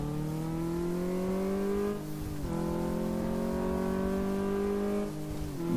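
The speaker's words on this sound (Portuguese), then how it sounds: "já vai acelerando aqui no autódromo" A car in the Car Mechanic Simulator 2014 video game is accelerating on a race track. The engine drones loudly and continuously, and its pitch climbs steadily through the gears with two brief dips at the gear shifts.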